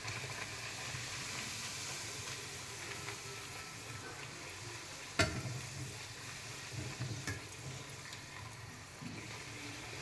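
Puri dough deep-frying in very hot oil gives a steady, close sizzle and bubbling, with a sharp spatter near the middle and occasional stirring clatter.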